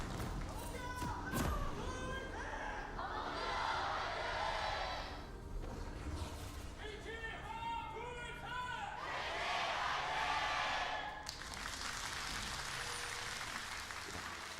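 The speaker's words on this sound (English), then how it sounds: "We have a full crowd. Packed stadium here at Lal Park." Full stadium crowd at an LCK Summer Split League of Legends match at LoL Park, heard as swelling cheers and applause in waves under continuous commentator talk.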